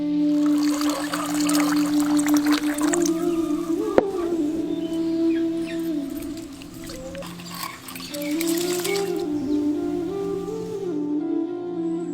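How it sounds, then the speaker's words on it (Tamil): Water poured over rice to soak it, a trickling, splashing stream that runs and pauses over a steady background hum, alone with no talk. "இப்ப நம்ம எடுத்து வச்சிருந்த அரிசியை தண்ணி ஊத்தி நல்லா ஊற வச்சிடலாம்"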